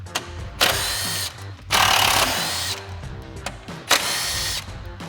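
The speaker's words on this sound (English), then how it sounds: "we'll grab our 10 mil socket and get those out" A power drill with a 10 mm socket removes screws on a 2021-2023 Ford F-150 during a fog light install, giving several loud, short whirring bursts separated by brief pauses and ratcheting clicks.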